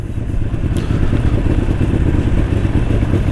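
A Musatti Dark Pow motorcycle engine runs steadily and loudly up close, a continuous low rumbling drone with slight clatter, heard alone without talk.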